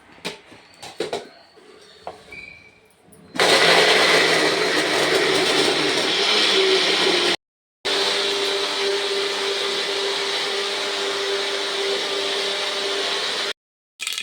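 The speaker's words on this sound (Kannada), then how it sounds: "ಆರಕ್ಕೆ ಬಿಟ್ಟು ಮಿಕ್ಸಿಗೆ ಹಾಕೋದಷ್ಟೇ." A kitchen mixer grinder grinding lightly fried, cooled masala for an avarekalu saaru starts after a few quiet clicks and runs as a loud, steady whirring roar. It stops briefly, restarts and stops again, close by with no talk.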